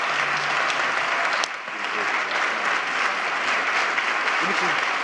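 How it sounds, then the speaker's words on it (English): Steady applause from a crowd fills the whole stretch, dense and even, with faint voices mixed in. "Let us all give Antoine a round of applause for his contribution to our city."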